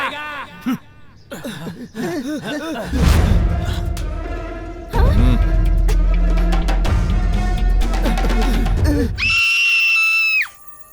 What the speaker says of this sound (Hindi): हमारी बिल्डिंग के फ्लैट नंबर 501 से चीखने की आवाजें आ रही हैं सर